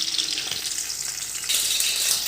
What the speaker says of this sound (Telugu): పప్పు తాలింపు పెట్టేసానండి